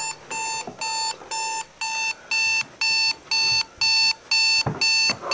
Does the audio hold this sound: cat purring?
no